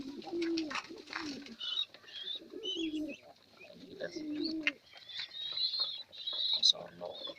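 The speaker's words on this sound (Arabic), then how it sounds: "هما دول زغاليل اللي بيعملوا كده، دول زغاليل لسه صغيرين، دول عايزين امهم تاكلهم." Young pigeon squabs on a rooftop loft call for food with repeated low cooing bursts and high thin squeaks in uneven clusters, close by, with a person's voice talking at points.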